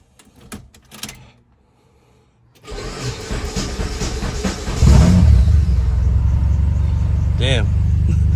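A car engine catches on the first crank after a short starter whir, then settles into a loud, steady idle that grows louder and fuller around the midpoint, preceded by a few clicks and quiet handling sounds near the start.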